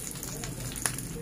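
Mackerel fish frying in oil in a home kitchen gives a faint, steady crackling sizzle with one brief sharper pop near the end.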